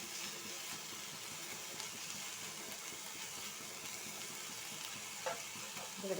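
Chopped ivy gourd, onion and green chilli sauté in a pan after mustard seeds have spluttered, giving a steady frying sizzle with light stirring scrapes and a few sharp pops near the end.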